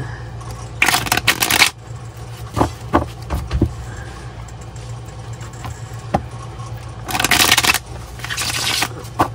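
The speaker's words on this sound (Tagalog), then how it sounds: "Balasahin muna po natin ito." Gold tarot cards being shuffled, with two loud riffling bursts and scattered card taps and slides in between, close over a steady low background hum.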